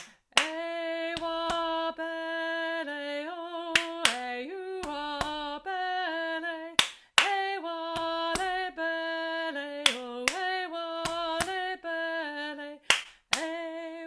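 Sharp claps and body-percussion slaps from a home choir rehearsal land in an irregular rhythmic pattern over sustained, steady musical tones, some hits close and loud, others lighter, with no speech.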